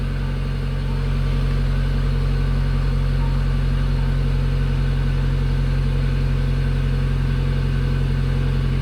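Honda Civic engine idling too high while warm, a steady, loud mid-pitched hum with constant low harmonics and no change in speed throughout.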